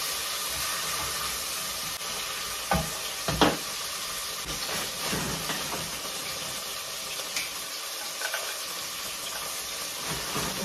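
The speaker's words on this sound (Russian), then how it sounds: "Обжариваем, обжариваем." A small amount of dried carrot frying in a pan, giving a constant broad sizzle with occasional stirring scrapes and a couple of louder knocks, close by.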